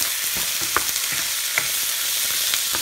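Sausages fry in a hot pan with a steady, loud sizzle and occasional crackles and spits, browning quickly for a cheap, fast meal; no voices.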